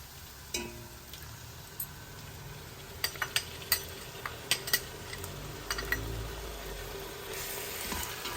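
Ginger garlic paste with carrots fries in a pan for sweet corn biryani, with a soft steady sizzle and a scattering of light metallic clinks and scrapes from stirring, fairly quiet.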